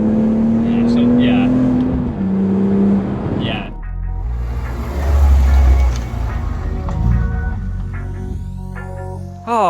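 BMW E46 M3 with an SMG gearbox revs hard, the engine tone rising and dropping through a downshift and then swelling again, loud and close, with people talking over it.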